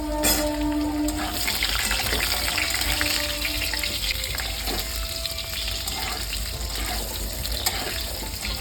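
Potato pieces sizzle in hot oil with bay leaves and five-spice seeds, a dense crackling hiss with scattered sharp pops and faint stirring, steady and close throughout.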